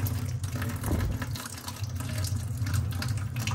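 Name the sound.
water flushing sludge out of boiler drain line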